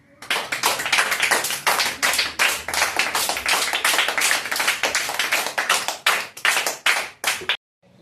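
A class of schoolchildren claps steadily and loudly at a small prize-giving, the hands beating in a fast, even rhythm for several seconds before stopping abruptly.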